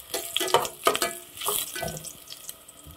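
Garlic sautéing in a pan, with irregular bursts of crackle and clatter from stirring and handling, fairly close and moderately loud, with no talking.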